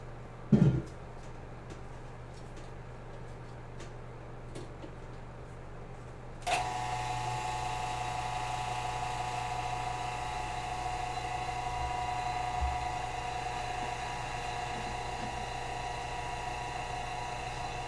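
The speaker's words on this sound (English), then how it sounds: "Into the vacuum chamber it goes." A vacuum chamber degassing resin: a click at the start, then a pump kicks on and runs as a steady, even whirring drone, moderately loud and alone.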